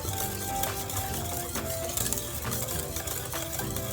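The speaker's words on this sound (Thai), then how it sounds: "คนไปเรื่อย ๆนะคะ คนตลอดนะสม่ำเสมอนะ น้ำตาลทรายก็จะเริ่มละลายนะคะ" A spoon stirs egg yolk and sugar salad dressing steadily in a pot, a continuous dense scraping and swishing that stays even throughout, with a faint tonal hum running underneath.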